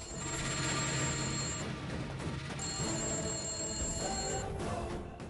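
A telephone rings in a Telugu TV serial scene, its bright repeating tone sounding in two long bursts with a pause between, over a dense, steady backdrop of other sound.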